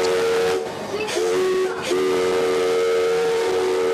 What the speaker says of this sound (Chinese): DT 六六八的蒸汽火车国王号码再度来启航